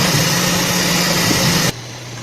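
An Anycubic Kobra S1 Max 3D printer with active noise reduction runs with a steady, even mechanical hum and a faint whine, heard close and alone, then drops abruptly to a quieter level near the end.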